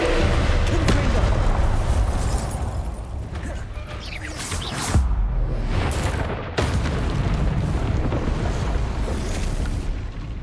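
Confringo blasting spell explosions in Hogwarts Legacy, loud booming blasts over dense game combat noise, with a sharp burst near the middle and another soon after while someone talks excitedly.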